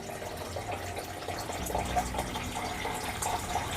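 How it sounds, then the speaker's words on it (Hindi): Water runs steadily into a copper jug, a soft continuous gushing with faint trickling detail, fairly quiet and close. "मैं जग में भर के रखती हूँ पानी"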